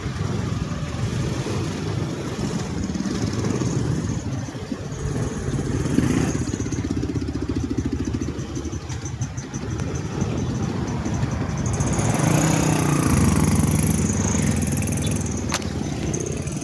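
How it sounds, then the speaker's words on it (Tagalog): Road traffic on a Philippine street near Science Park, motorcycle engines droning and buzzing close by, swelling louder as bikes pass, with a steady rumble of vehicles throughout. "Ayan, traffic."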